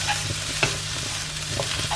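Seasoned beef with pimento, thyme, chili, pepper and oregano sizzles softly in a pan while being stirred, with a few scraping strokes over the steady frying hiss.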